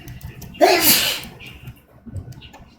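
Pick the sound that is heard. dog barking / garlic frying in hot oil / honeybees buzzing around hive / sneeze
sneeze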